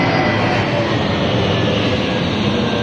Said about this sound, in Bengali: এই বাড়ির উপর দিয়ে প্লেন।